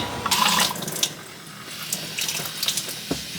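Water runs from a tap at a washing station during hoodie making, a steady splashing flow that is strongest at the start and then settles into a softer stream, with no talking.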